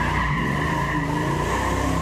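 A car launches hard with loud, continuous tire squeal and skidding over a steady engine roar, close and sustained throughout without any talking.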